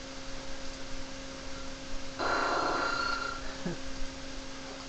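A brief, harsh electronic screech of the Pokémon Aerodactyl's video-game cry lasts about a second over a steady electrical hum.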